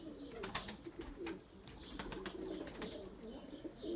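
White tumbler pigeons coo and flutter outdoors, soft repeated low coos with light wing flaps and rustling, fairly close and steady, with no talking.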